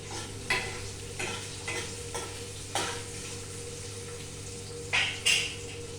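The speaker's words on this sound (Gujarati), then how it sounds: "આને આપણે મિક્સ કરી દઈએ." Capsicum being stirred with salt in a pan, a soft sizzle under a low steady hum, with repeated scraping strokes of a spoon and a couple of sharper clinks near the end.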